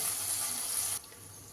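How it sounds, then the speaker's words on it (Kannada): A short splash of water is poured into leftover ground masala for okra sambar, a close, steady pour that lasts about a second before it stops and leaves quieter room tone; no talking. "ಮಸಾಲೆಗೆ ಉಳಿದಿರೋ ಮಸಾಲೆಗೆ ಸ್ವಲ್ಪ ನೀರು ಹಾಕ್ಬಿಟ್ಟು ಹಾಕ್ಕೊಳ್ಳಿ."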